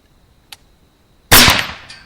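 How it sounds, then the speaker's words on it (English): A single loud, sharp rifle or shotgun blast fired at a beaver outdoors, with a faint click just before and a decaying echo that rolls on for most of a second. "when the landowner's gun did not go off, I went ahead and shot"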